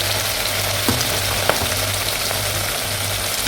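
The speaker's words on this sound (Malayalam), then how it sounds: "എണ്ണ ചൂടായി ഇനി നമുക്ക് മീനിട്ട് കൊടുക്കുകയാണ്." Tuna pieces drop into hot oil for a homemade pickle and fry with a steady, close crackling sizzle, marked by a few soft pops and a low hum underneath.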